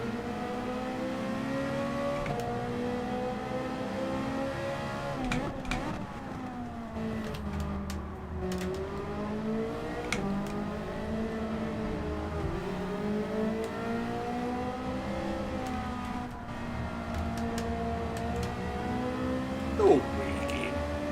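A Ferrari race car engine in the Gran Turismo 7 video game whines steadily, its pitch sweeping up and down through gear changes over about twenty seconds, moderately loud with faint background noise.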